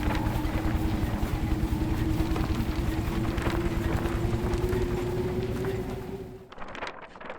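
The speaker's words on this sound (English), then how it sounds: "You hear that, engine?" A boat engine drones in the video game Critter Chronicles, a steady low hum with a faint tonal whine that runs for several seconds and then cuts off abruptly near the end.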